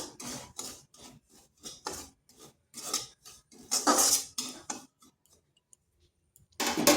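Semolina lightly roasted in a pan while being stirred, giving steady, close scraping and rubbing strokes in a quick rhythm, a short lull, then another burst of stirring.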